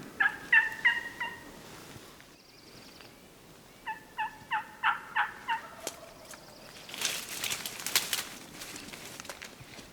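Wild turkeys gobble at a morning turkey camp, two loud bursts of rapid, repeated gobbling calls close by, followed by scattered bird calls and rustling.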